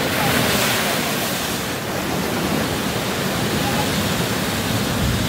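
Ocean waves surge at Thor's Well, a sinkhole on the Oregon coast, as a loud, continuous roar of surf mixed with wind buffeting the microphone.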